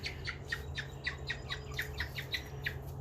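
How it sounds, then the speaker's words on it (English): Young wild birds squawk in a quick, steady series of about a dozen sharp, raspy calls close by, over a low constant background hum. "They are wild birds, let me tell you"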